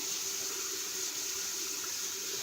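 Tap water runs steadily into a kitchen sink while silverware is washed, a constant close hiss of flowing water with no talk.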